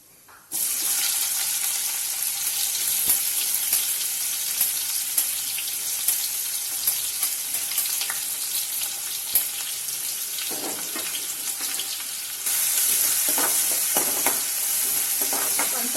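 Mustard seeds, onion and green chilli fry in hot oil for a Rajasthani sev doodh, giving a steady, close, continuous sizzle with light stirring scrapes throughout and no talking.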